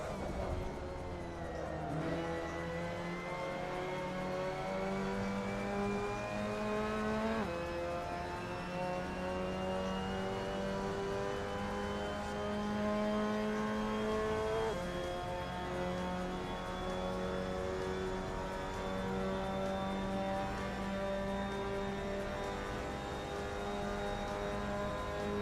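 Mazda MX-5 Cup race car engine on the Daytona road course in Assetto Corsa, a steady in-car drone that climbs through the gears, with sharp drops at each of several upshifts, loud and constant with no talk.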